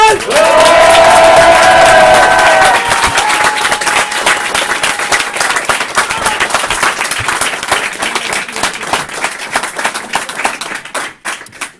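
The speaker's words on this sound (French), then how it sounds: "Une ovation pour Monsieur Sorel" Loud audience ovation for a speaker at a political congress, dense clapping that opens with a cheering crowd and holds steady to the end before tapering off.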